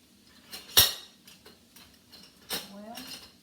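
Kitchen utensils clink and clatter in a few sharp bursts, with one loud clank early on, while someone rummages for a spatula during squash casserole prep; faint talk sits in the background.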